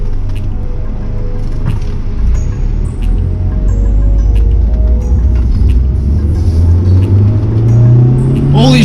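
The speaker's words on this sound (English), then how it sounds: "So let's do acceleration tests with the AE110." A late-1990s Toyota Corolla AE110 accelerating hard from inside the cabin, a steady low engine drone that climbs in pitch toward the end as revs build, loud and continuous with no talk over it.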